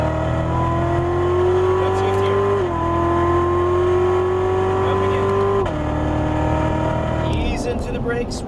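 A high-revving Chevrolet Corvette C7 Z06 engine climbs through gears at close range on a race track, with pitch dropping at each shift and a brief rattle near the end.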